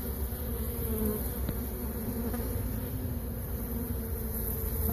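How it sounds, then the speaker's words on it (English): Honeybees buzz steadily from an opened hive, a dense continuous hum of many insects close by with no talking. "These bees are a little bit put out that I've opened up their hive."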